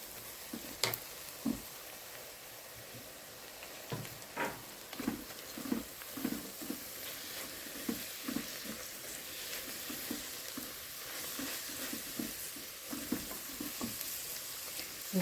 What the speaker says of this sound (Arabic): لحد ما البصل يحمر وننزل عليه بالفلفل